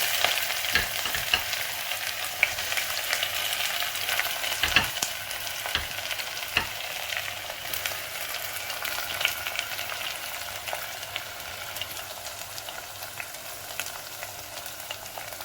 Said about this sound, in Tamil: எண்ணெய் ஊற்றி ஹோல் ஸ்பைசஸ் போட்டு வெங்காயம் போட்டு வதக்கிட்டுருக்கேன்.